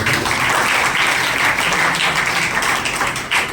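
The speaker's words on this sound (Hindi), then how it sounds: "जोरदार से ताली बजाएं।" Loud, sustained applause fills a church during a Sunday catechism inauguration, many people clapping together in a continuous dense roar.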